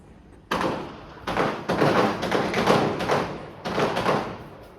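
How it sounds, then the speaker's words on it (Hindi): A series of loud, crackling bursts pops off close by, each explosion rough and noisy, coming in irregular clusters over a few seconds. "देख के पटाखे वटाखे फोड़ रहा, आवाज़ आ रही होगी, ये देखो।"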